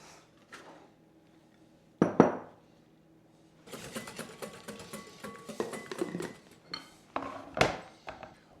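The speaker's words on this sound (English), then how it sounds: "I need 1 large egg, so I'm going to whisk." An egg is whisked in a bowl with quick, rhythmic clinking and scraping strokes of a whisk against the bowl, close and fairly quiet, broken by short pauses and a few sharper knocks.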